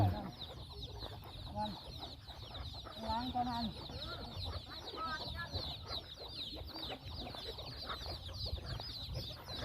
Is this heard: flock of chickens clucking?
yes